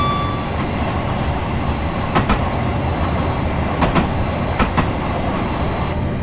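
A Class 377 electric train in Train Simulator 2018 runs at speed with a loud, steady rumble and a few sharp rail clicks from the wheels.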